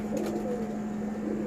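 Pigeons in a loft during moulting season coo softly in a low, steady drone, heard briefly at moderate distance without any talking.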